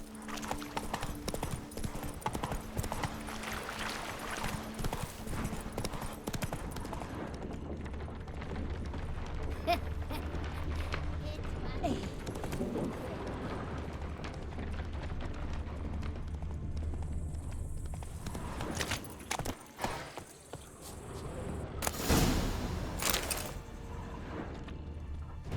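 Roach, Geralt's horse in The Witcher 3, gallops with a steady rapid clip-clop of hooves on the ground, close and continuous, with mechanical clatter and a brief louder burst near the end.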